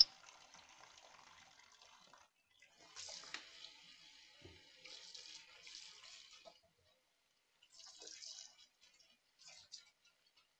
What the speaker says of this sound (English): I get an old brush and I simply agitate the figure whilst it's in the soapy water